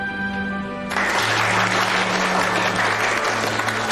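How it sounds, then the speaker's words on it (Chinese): Loud applause from a crowd breaks out and holds steady, dense and continuous, after a short musical opening with a low sustained tone running underneath. "先别鼓掌"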